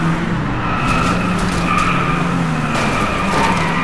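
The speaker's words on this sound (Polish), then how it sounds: "słychać bardzo silnik." A racing car engine in the PS4 game Driveclub drones loudly and steadily, with a strained high whine and tire noise running throughout.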